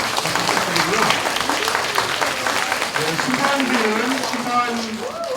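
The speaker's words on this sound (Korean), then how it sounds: "힘찬 박수 한번 부탁드리겠습니다." Enthusiastic applause after an elementary school debate final, continuous clapping from the hall with voices chattering and calling out over it.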